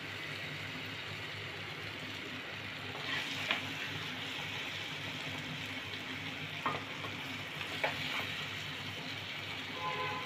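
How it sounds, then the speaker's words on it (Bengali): Mango pieces frying in oil in a pan give off a soft, steady sizzling hiss at low volume, with a few faint clinks and scrapes and no talking. "এই দেখুন আমগুলো কিন্তু ভাজা হয়ে গেছে"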